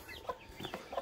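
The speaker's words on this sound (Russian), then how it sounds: "Курочка." Chicken clucking at a farmyard, a few short soft clucks in quick succession, fairly close and alone with no talk.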